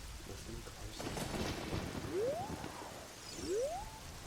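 Steady rain in the video game Ocarina of Time, a dense hiss with low rumbling underneath, joined by two rising whistle-like tones partway through.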